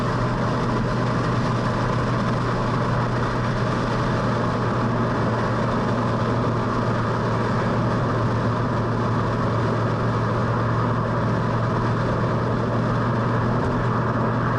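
A 1966 Ford Mustang driven on the road with a tuned-up FE engine, a steady loud low engine drone and road rumble that hold unchanged throughout with no talking.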